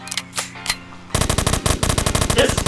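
A 45-round machine gun fires in the game Dude Theft Wars: a few separate shots, then a fast, loud, sustained burst of rapid automatic fire up close, no talk.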